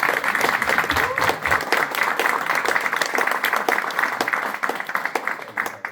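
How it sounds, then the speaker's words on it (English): Warm audience applause at a veterans' gathering, steady crisp clapping from a roomful of people that carries on for several seconds and eases slightly at the close. "Let's give them a round of applause one more time."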